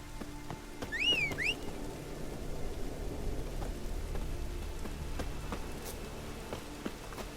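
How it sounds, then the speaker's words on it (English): Rain in The Witcher 3 video game falls as a steady, soft wash throughout, with a brief bird chirp near the start and occasional faint ticks. "Maybe we needed a spot of rain. Raining again."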